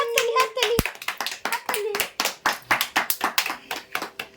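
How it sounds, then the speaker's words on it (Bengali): Hands clap in a quick, fairly even rhythm at a baby's birthday party, close and bright, with a child's and adults' voices calling out over the clapping. "হাততালি দাও হাততালি"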